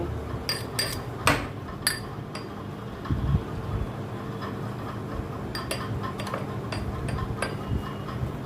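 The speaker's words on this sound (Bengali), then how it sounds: "এরপরে এর মধ্যে দিয়ে দেব আমি পেঁয়াজ কুচিগুলো, এবং সেইগুলোও আমি এরকমভাবে মোটা মোটা করে একটু থেতো করে নেব।" Chopped onions being crushed in a kitchen, with scattered metallic clinks early on, a duller pounding thud, then soft scraping and tapping, close and fairly quiet.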